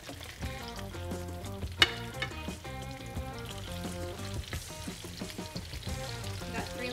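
Mudfish cutlets fry in a pan with a soft, steady sizzle and occasional small pops, fairly quiet and close, with no talk.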